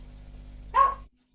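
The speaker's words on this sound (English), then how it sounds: "That's my dog." A pet dog gives a single short bark indoors, a close, fairly loud burst that stops abruptly, with a low steady hum underneath and quiet afterward.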